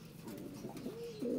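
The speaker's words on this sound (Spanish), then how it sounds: "Pero mirad, esta paloma." A racing pigeon being handled gives a soft, low coo that swells and rises near the end, close to the ear over faint background rustle.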